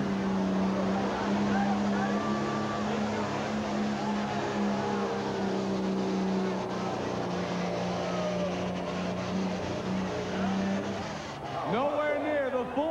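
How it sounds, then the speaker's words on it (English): A pro stock pulling tractor roars steadily at full throttle during a pull at the National Tractor Pulling Championships in Bowling Green, Ohio, a loud, sustained engine drone with an announcer talking over it and the pitch shifting near the end. "Pro stock tractors from the National Tractor Pulling Championships in Bowling Green, Ohio."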